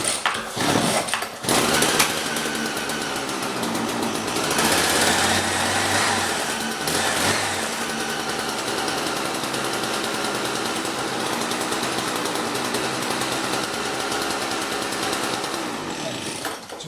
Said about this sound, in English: pump in, fuel in, and start it up first.